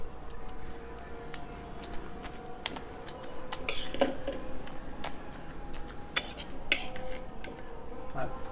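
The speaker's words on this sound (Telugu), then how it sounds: "ఇగో ఇలా దంచుకోవాలి." Tomatoes are pounded in a stone mortar for a rustic tomato chutney, with crushed garlic already inside; sharp stone knocks and clacks land at irregular intervals over a faint room background.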